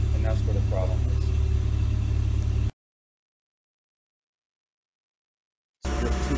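A warm VW MK1 Cabriolet engine runs steadily at 2000 RPM with low oil pressure, giving a loud, even hum that cuts to silence partway through and then resumes.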